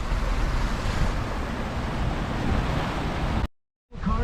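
Hurricane Nicole's wind roars with rushing floodwater in Volusia County, Florida, a loud, steady broadband blast with no pauses until it cuts out abruptly near the end, then resumes briefly.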